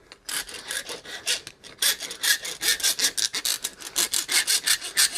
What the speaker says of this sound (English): Rasp them up like that.